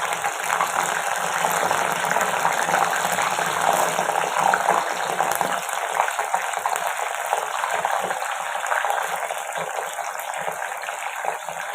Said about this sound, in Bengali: ভেন্ডিগুলো তেলে দিয়ে দেবো।